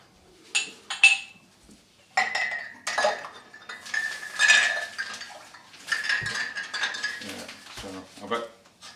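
Glass canning jars clink and knock against a metal pot as they are set into water for canning strawberry jam, a series of close, bright clatters with gaps between them and someone talking faintly.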